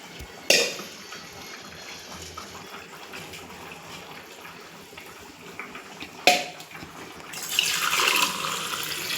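Hot water being poured from a glass into a pot for chicken dum biryani, a soft running splash with sharp clinks of the glass against the pot, ending in a louder, fuller pour.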